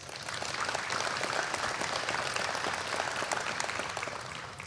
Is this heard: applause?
yes